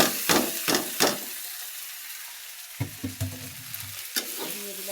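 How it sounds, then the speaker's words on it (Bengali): Cooked pasta hits a pan of frying egg, then a steady sizzle runs under a few close scrapes and knocks of a spatula stirring the mixture. "ডিম দেওয়ার পরে আমি পাস্তাগুলো ঢেলে দেবো"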